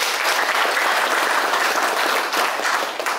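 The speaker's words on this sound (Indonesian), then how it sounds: "Tepuk tangan untuk mereka." At a church inauguration ceremony, a crowd breaks into steady, dense applause, loud and close, continuous clapping that holds for a few seconds before easing slightly.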